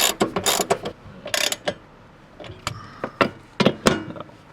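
A ratchet tightens seat base bolts with bursts of quick, close metallic clicking, several short runs separated by brief pauses.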